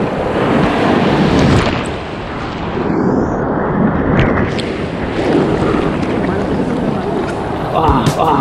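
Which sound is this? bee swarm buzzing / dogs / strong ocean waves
strong ocean waves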